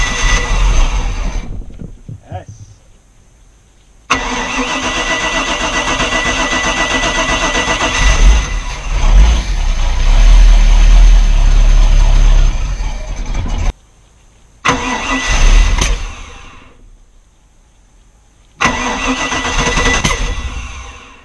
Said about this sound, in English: so it was running, but something's off because it's backfiring now